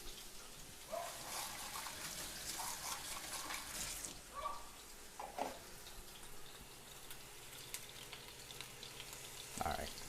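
Sauce frying in oil in a pan while making a grilled cheese meal, giving a steady broadband sizzle with scattered pops and spits, moderately close, with no talk over it.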